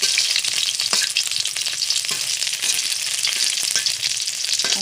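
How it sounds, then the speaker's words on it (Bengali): Chicken pakoras deep-frying in hot oil produce a steady, close, loud sizzling crackle with occasional sharper pops throughout, and no voices. "আমি এখানে কিছু পাকোড়াও ভাজি"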